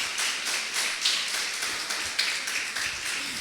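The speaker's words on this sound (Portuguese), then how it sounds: "Você pode aplaudir ao Senhor por esta palavra?" A church congregation applauds after a sermon, a dense spread of many hands clapping with a loose, pulsing rhythm, moderately loud and sustained without voices.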